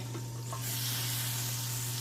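Steak sizzles steadily in a hot pan, a constant hissing fry with a low hum beneath it.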